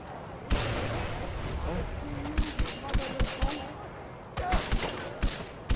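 Gunfire in the video game Far Cry 4: several sharp single shots and short bursts popping over a steady background of game noise, with a voice speaking now and then.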